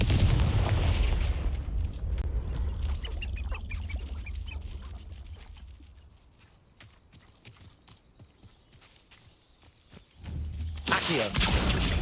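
Confringo fire spells burst in Hogwarts Legacy with loud, booming blasts early on. Quieter crackling follows, then another sharp explosive burst near the end, with no voices.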